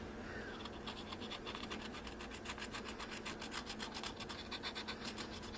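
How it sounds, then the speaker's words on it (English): A Sharpie marker scrawling letters across stamped metal jewelry: a soft, rapid rhythmic scratching and rubbing of the felt tip on the metal surface, faint and continuous for several seconds, with no voices. "I am going to Sharpie in Matt's name down here"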